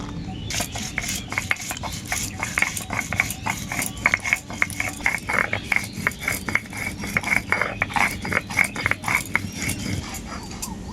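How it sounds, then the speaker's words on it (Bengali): Green chillies being ground into a fine paste on a grinding stone, a steady run of rhythmic scraping and clacking strokes, close and moderately loud, with no talk over it. "এই কাঁচা লঙ্কাটাও বেটে নেবো"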